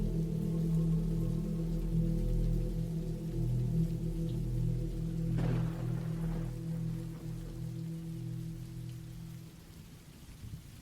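Steady rain falls with a low rumbling bed of distant thunder underneath, continuous and fairly loud, with a brief brighter patter swell midway.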